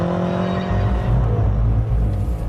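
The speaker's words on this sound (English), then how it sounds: "they've fitted it with a system that pipes a synthesized version of the exhaust note" BMW M5 F10 with a 7-speed double-clutch gearbox, its synthesized exhaust note piped through the cabin stereo, a loud deep steady engine rumble heard from inside while driving, swelling slightly as it pulls.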